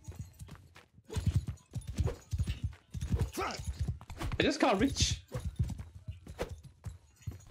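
Horse hooves clop in a steady galloping rhythm in the video game Mount & Blade II: Bannerlord, close and continuous under someone talking, with a brief whinny and combat noise midway.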